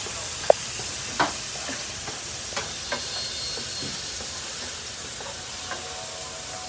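Turmeric being stirred into a frying pan for a homemade Japanese tsuna dish: a steady soft sizzle with occasional scraping taps of the spoon against the pan, fairly close, with no talking.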